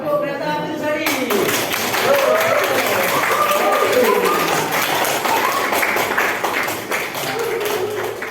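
A group of teachers claps a rhythmic train-style clapping routine in a classroom workshop. Brief speech comes first, then a loud, sustained burst of crowd clapping fills the rest.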